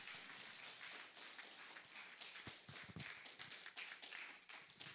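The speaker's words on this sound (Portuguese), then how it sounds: "Vamos louvar o Senhor com as nossas palmas essa noite" A church congregation claps hands in praise during a night service, a dense, continuous patter of many hands at moderate distance, with no voices over it.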